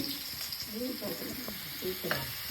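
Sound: brinjal (eggplant) slices frying in a pan

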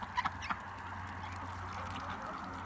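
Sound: dabbling ducks on a farm

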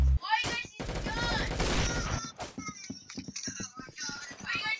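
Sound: gunfire in video game Roblox Arsenal

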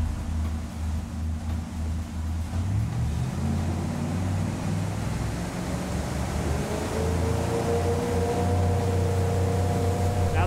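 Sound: motorboat accelerating on hole shot with Bennett trim tabs

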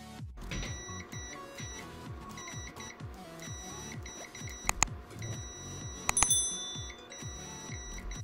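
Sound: Zoyi ZT111 multimeter continuity test beeping

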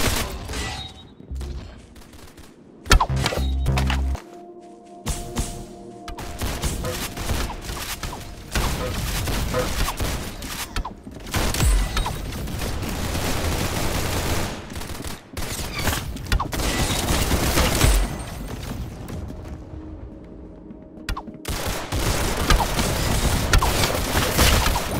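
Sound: gunfire shooting in Roblox Arsenal video game

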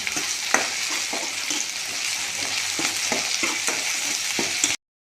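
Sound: ginger-garlic paste being stir-fried with onion and tomato

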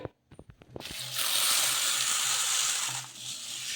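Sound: washing moong dal lentils in a bowl

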